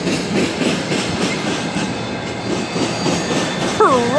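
An Illinois Central freight train rumbles past nearby in Griffith, Indiana, with rhythmic clatter from the cars, ending in a brief metallic wheel squeal.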